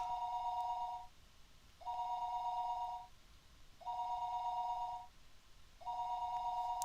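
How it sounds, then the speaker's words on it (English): Telephone ringing in the Higurashi When They Cry video game, a steady electronic ring repeated in four evenly spaced bursts of about a second each, clear and alone with no voices. "Her phone would be ringing constantly, though, so would she get back up for me?"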